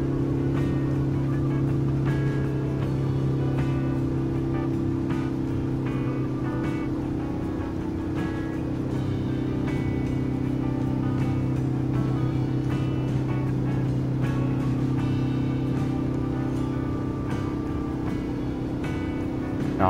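A diesel-engined car driving along, its steady low engine drone and rumble continuous and fairly loud throughout, with road and cabin noise around it.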